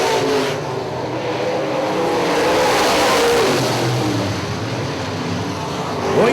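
UMP modified race cars roar around the oval at Hartford Speedway Park, a loud, steady engine drone rising and falling as the pack runs down the stretch toward turn four, with a faint tire squeal.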